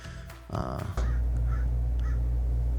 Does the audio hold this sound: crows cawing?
yes